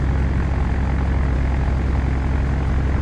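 Douglas DC-3 piston propeller engines taxiing in Flight Simulator X: a steady, loud, throbbing engine drone with a fast pulsing beat, continuous and unchanging throughout.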